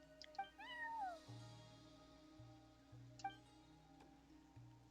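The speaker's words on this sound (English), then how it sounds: "That's what I think Kitty's saying." A cat meows in the video game Genshin Impact: two short, close meows with a rising-falling pitch sweep, a second and a half apart, heard over steady game background music.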